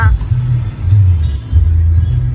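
Steady low engine drone and road rumble fill the cabin as a car travels to a village, with a passenger seated beside the driver; no one speaks over it.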